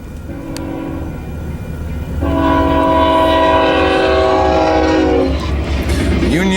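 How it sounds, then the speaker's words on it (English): A Union Pacific freight train rumbles close by, its horn blaring in a long sustained blast over the steady roll and clatter of the wheels. "Oh, wait for a train."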